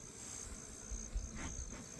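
Honey bees buzz in an opened hive box during a homestead inspection after smoking, a steady dense hum filling the scene at close range, with no talk.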